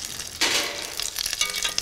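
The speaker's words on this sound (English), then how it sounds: "You'll hear that sizzle, it'll get nice and golden brown." Rice balls sizzle and crackle in hot oil, a burst of frying noise that keeps popping steadily for a couple of seconds.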